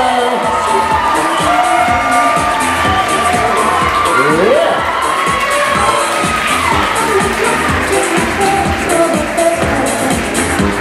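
Wedding guests fill a reception hall with sustained loud cheering, whooping and applause for the groom's parents, a dense crowd roar that holds steady for the whole stretch with shouts rising above it.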